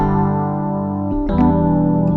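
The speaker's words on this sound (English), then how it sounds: "So right now I found this nice piano sound, and it's called LA Custom Lush, and it's inside Keyscape" LA Custom Lush piano from Keyscape, a bright, lush sampled piano playing a sustained chord that rings, then a second chord struck just after the middle, loud and alone.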